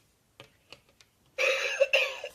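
A novelty gadget that coughs when it detects a cigarette gives a short, harsh, recorded-sounding cough burst that breaks briefly and resumes. Several faint taps come before it, and no one talks.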